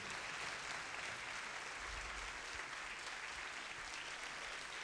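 Concert audience applauding the Filarmonica Giuseppe Verdi di Salerno at the 2013 New Year's concert in Salerno, a steady, dense wash of clapping that holds at an even level throughout, with no voices on top.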